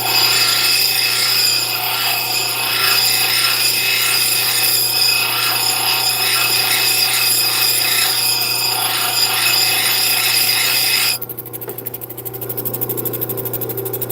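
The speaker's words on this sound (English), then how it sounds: "And then we're going to grind down just a little." Obsidian being ground down with a power tool, a steady loud whine and rasp that runs continuously before cutting off and dropping to a rougher, quieter grind near the end.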